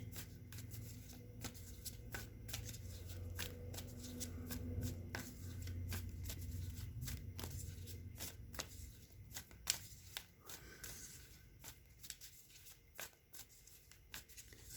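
Tarot cards being shuffled for a reading, a close run of rapid papery riffles and flicks repeating at an uneven rhythm, with no voices.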